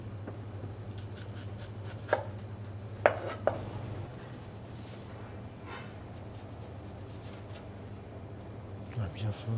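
Onions being finely chopped with a knife for a chicken fricassée, heard as a few sharp, separate knife strikes on a board over a steady low kitchen hum.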